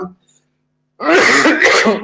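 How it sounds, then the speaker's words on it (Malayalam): After a brief pause, someone clears their throat loudly and harshly, a close, rasping cough lasting about a second. "ചുമയുള്ളത് കൊണ്ടാണ് വെള്ളം കുടിക്കുന്നത്, ക്ഷമിക്കുക."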